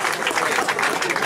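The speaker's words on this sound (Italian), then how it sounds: "un grande applauso a lui e a quella squadra" An award ceremony crowd claps for a team captain, a dense, steady burst of applause lasting only a moment.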